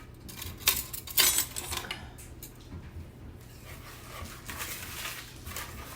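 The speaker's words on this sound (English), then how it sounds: "Now we're going to whisk this together." Peach cobbler batter is whisked in a bowl with a few sharp metallic clatters early on, followed by softer, steady scraping and rattling close by.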